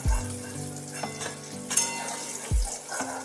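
Eggplant slices frying in oil on a gas stove, a steady close sizzle with occasional low thumps and stirring clatter from the pan, no voices.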